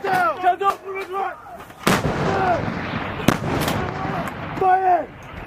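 Rocket launches from a U.S. Marine HIMARS firing GMLRS guided rockets: sharp loud blasts at about two and three and a quarter seconds, each followed by a long roaring rush, with excited shouting from people before and after.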